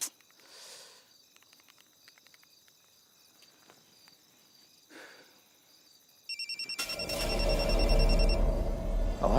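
After a quiet stretch with soft insect chirping, a loud telephone starts ringing in a repeating electronic pattern that continues to the end.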